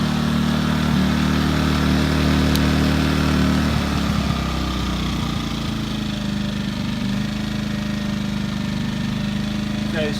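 A Champion 2000W portable generator runs at full throttle with econo mode off, exhaust facing the listener, giving a steady, loud, close engine drone with strong low harmonics that shift slightly partway through.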